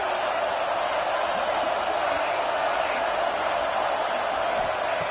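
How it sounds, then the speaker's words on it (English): A football stadium crowd at a college football playoff game between Cincinnati and South Carolina roars on third down, a dense, loud, unbroken wash of cheering that holds steady from start to finish. "the crowd really getting into it"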